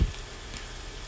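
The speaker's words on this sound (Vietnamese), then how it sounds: "Ở đây mình có chuẩn bị một củ tỏi nhỏ, bây giờ mình sẽ bỏ vào chảo để chiên các bạn nhé." A small head of garlic frying in a pan, a steady, even sizzle heard close up, with a brief low thump at the very start.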